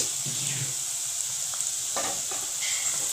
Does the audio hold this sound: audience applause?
no